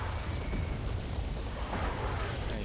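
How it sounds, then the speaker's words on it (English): Artillery fire lands on a target in the Wargame Red Dragon battlefield, a heavy, continuous rumbling boom with noisy crackle filling the whole moment, loud and unbroken. "Artillery got it."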